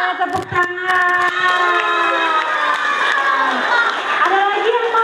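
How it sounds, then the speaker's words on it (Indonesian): A crowd of primary school children at an anti-drug awareness session cheers and shouts loudly in a sustained, bright roar, with a few early claps at the start and no clear speech. "Oke, tepuk tangan."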